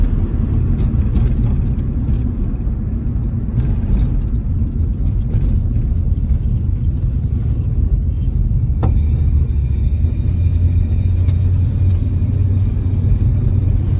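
A 1965 AMC Rambler Marlin with a 327 engine drives on the road during a road test, its engine and tyres giving a steady, loud low rumble throughout, with a slight change in engine note near the end.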